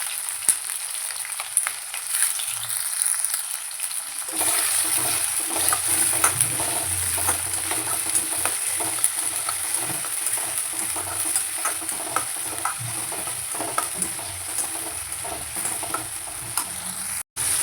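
Brinjal, elephant yam and tomatoes sauté in a pan for kara kuzhambu, a steady close sizzle and crackle with stirring scrapes that sets in after a few quieter seconds and runs on without speech.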